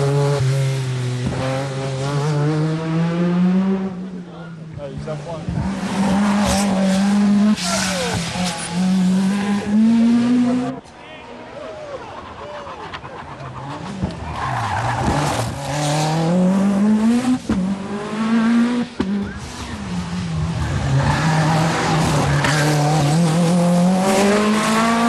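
Henri Toivonen's rally car, running on a forest stage, howls through repeated rising gear pulls with tyres scrabbling and skidding between shifts. It is loud and close, with brief lifts off the throttle.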